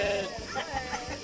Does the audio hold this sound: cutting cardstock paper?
no